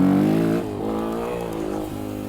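Yamaha XT225 dual-sport motorcycle pulling hard in second gear without the clutch, a loud, close single-cylinder engine note that drops briefly and then holds a steady, rising drone.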